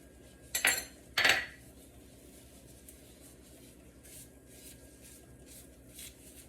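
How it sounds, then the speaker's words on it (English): White sesame seeds go onto wheat halwa in a pan with two quick, close metallic spoon scrapes, followed by quiet, faint clinks and rustles. "What I'm going to do is I'm going to add this white sesame"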